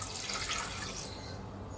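About three cups of water poured into a cooking pot while making a Kerala-style curry, giving a steady, fairly quiet rushing splash that lasts throughout without breaks.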